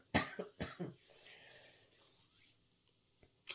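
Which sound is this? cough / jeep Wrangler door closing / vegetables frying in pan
cough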